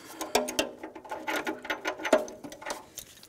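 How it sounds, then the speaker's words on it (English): An O2 sensor socket on a ratchet works loose an oxygen sensor on the exhaust manifold catalytic converter of a 2013-2016 Dodge Dart, giving quick bursts of clicking pawl ratchets and scraping metal, close and moderately loud, with no talking. "using the same O2 sensor socket, take the other one off. And loosen that up."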